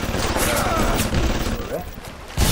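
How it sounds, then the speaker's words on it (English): A security turret firing in Bioshock Remastered gives a dense, continuous rattle of game gunfire for about two seconds, then a louder burst hits at the end. "Oh, no, no, no, turret."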